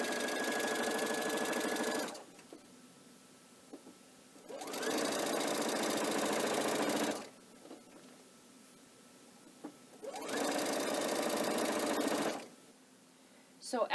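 Three long bursts of a sewing machine stitching binding onto a heavy quilt, each running a few seconds, loud and close, with quiet pauses between them where a voice speaks.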